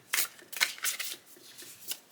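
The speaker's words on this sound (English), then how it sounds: "They shuffle very nicely, though." A deck of Fountain Tarot cards is shuffled close up in a few quick papery riffles and flicks, with short bursts separated by brief pauses and no voices.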